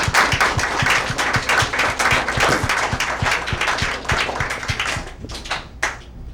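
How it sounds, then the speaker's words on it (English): A room full of people applauds, dense clapping that stays steady before thinning out and fading near the end. "Clap for your parents."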